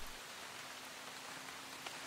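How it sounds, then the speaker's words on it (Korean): Summer rain in Jangheung falls in a steady, even hiss of drops with no clear pattern, soft and unbroken throughout, with no voices over it. "여름비가 내리네"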